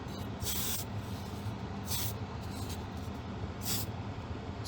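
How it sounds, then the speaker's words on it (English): Three separate bursts of spray priming on model aircraft parts for a Spitfire Mk 1 kit, each hissing blast lasting under a second and spaced evenly apart over a steady low background hum. "Priming parts has several advantages."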